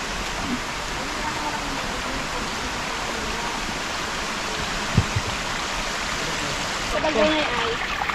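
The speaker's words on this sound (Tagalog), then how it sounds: "Ito na yung tubig galing talaga sa ano bundok oh." Mountain stream water flows and splashes steadily nearby, a constant rushing hiss with a brief splash partway through.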